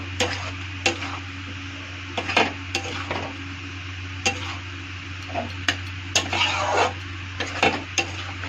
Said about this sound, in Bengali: এর মধ্যে টমেটো কাটাটা আছে এটা ছেড়ে দেব। দিয়ে ভালো করে নেড়ে চেড়ে নেব।